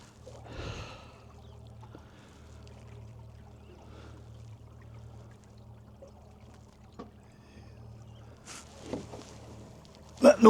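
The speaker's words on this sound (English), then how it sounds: "That noise you can hear in the background" An oyster dredging boat's engine throbs as a low, steady drone throughout, with water splashes and faint breaths heard over it near a tidal marsh.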